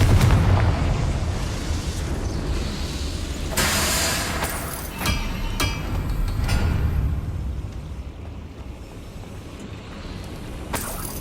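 A Confringo spell cast in Hogwarts Legacy bursts into loud rumbling explosions over a dense, continuous game soundscape, with several sharp booms and crackles layered through the fight.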